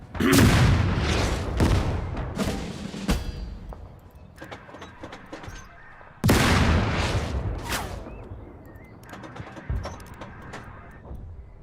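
Tank cannon fire in the game Total Tank Generals: two heavy booming blasts several seconds apart, each followed by scattered explosions and rumbling that fade out.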